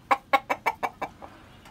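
A 7-month-old stag, a young rooster from an imported American line, gives six quick, evenly spaced clucks nearby, each a little softer than the last.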